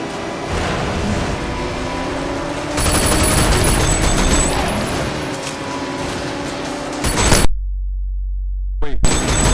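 Rapid automatic gunfire bursts from the video game Cyberpunk 2077, loud and dense over game ambience, cutting to brief silence near the end before firing resumes.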